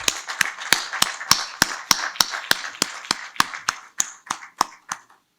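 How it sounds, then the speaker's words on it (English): Applause for the speakers at a leadership session: a run of sharp, evenly spaced claps, close and crisp, slowing and thinning out before stopping near the end. "Can we give a round of applause,"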